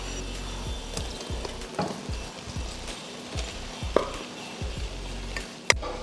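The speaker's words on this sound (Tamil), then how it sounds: "அடுப்பை சிம்மில் வச்சுட்டு இப்போ சாதத்தை இதில் போட்டுக்கலாம்." Cooked rice stirred into a tamarind mixture in a pan over low heat, giving soft repeated scraping and shuffling strokes with a faint sizzle and an occasional sharper clink.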